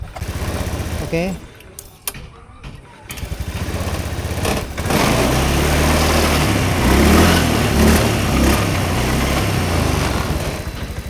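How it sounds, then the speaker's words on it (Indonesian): An engine being started with the ignition key and starter motor: a loud mechanical whirring and churning that runs throughout, settling into a steadier rumbling drone in the second half, close up, with a voice briefly heard. "Setelah itu kita hidupkan kunci kontaknya, sudah kita starter."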